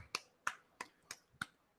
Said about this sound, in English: I got to clap